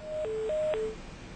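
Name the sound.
phone call disconnecting tone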